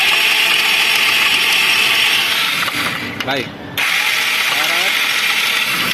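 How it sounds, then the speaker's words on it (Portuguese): A motorcycle engine with a knocking fault is started, giving a short mechanical cranking rattle in the middle before the engine settles into a steady running whir. Someone speaks briefly under the noise. "Então a gente vai ligar a moto"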